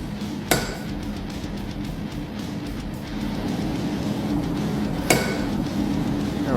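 Hammer blows on hot metal while forging a nail head, two sharp ringing strikes several seconds apart over a steady low background hum.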